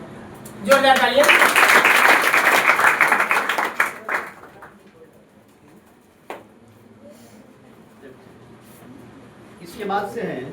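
A crowd at a student award ceremony for Bihar Board toppers claps loudly and steadily for about three seconds before the sound drops away, leaving a quiet room and a brief flurry of claps near the end.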